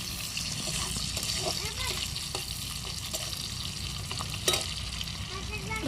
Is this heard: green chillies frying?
yes